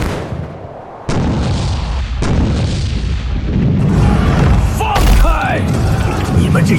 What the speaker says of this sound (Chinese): 玄天城所有炮火集中轰击黑日魔神后颈区域